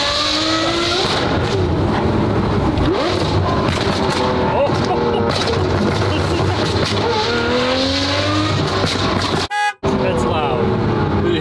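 A McLaren 765 supercar engine roars loudly and continuously, with revving and tire noise and people talking over it, before a brief drop to near silence and the engine noise returning.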